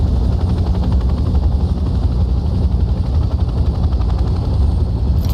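Helicopter rotor in the Vietnam war game Hell Let Loose: Vietnam, a loud, constant low thrumming beat with a heavy engine drone throughout and no speech.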